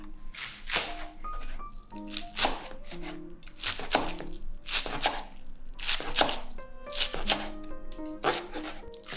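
Fresh minari (water dropwort) cut with a knife on a board, a run of crisp rhythmic chopping strokes in close, evenly spaced bursts, no voices.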